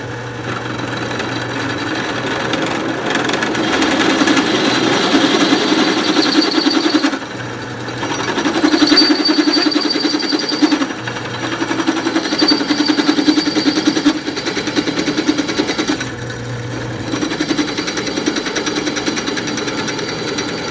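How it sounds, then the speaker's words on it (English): A drill bit bores into a Ford Explorer 8.8 axle hub, a steady, loud mechanical whine and grind that runs almost continuously, pausing briefly a few times before the cutting resumes. "letting the conical shape of the drill bit kind of find its center"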